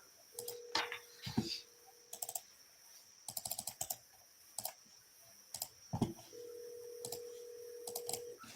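A phone being dialed for a call: quick clusters of keypad presses with short steady tones, soft and close, alone without talk over them.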